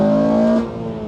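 A Honda Civic Type-R engine pulls hard with a steady rising drone, close and loud, then eases off abruptly about halfway through.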